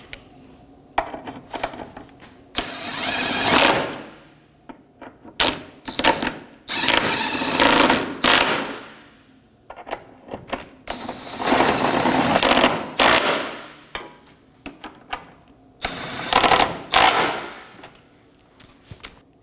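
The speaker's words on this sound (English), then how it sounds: "Now we can snug our mount bolts down." Rear trailing arm mount bolts on a 2018–2024 Toyota Camry snugged down with a power tool, loud close bursts of rattling impact in several separate runs with short pauses between.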